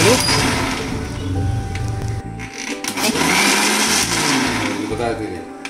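Mixer grinder jar whirring as cream churns into butter at home, a loud steady motor drone that cuts out briefly partway and restarts, with a voice talking over it.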